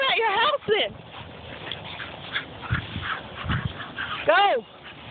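A dog whines and yips in high, wavering cries close by, then lets out a few short barks and whimpers, while people talk over the commotion.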